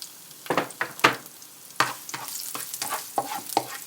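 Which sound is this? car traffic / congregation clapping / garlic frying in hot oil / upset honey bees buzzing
garlic frying in hot oil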